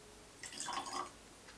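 Water drips from a silver spoon into a glass of single malt whisky, a short cluster of soft wet splashes near the microphone in a quiet room.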